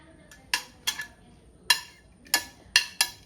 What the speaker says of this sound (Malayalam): ഈ അരിഞ്ഞു വെച്ച എല്ലാ സാധനങ്ങളും മൺചട്ടിയിലേക്ക് ഇടുവാണേ